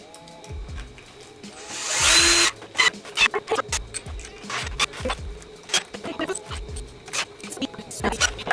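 Short bursts of a power drill driving screws into the leg of a DIY wooden planter, whirring in quick repeated spurts with a louder run near the start, while someone talks over it.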